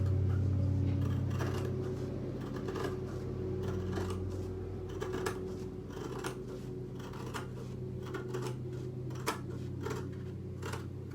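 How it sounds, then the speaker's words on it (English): Scissors cutting burlap along a pencil line, a series of crisp snips and crunches at an uneven rhythm, close by and moderately loud over a low background hum, with no talk. "And then I'm going to take my scissors and cut right down that line."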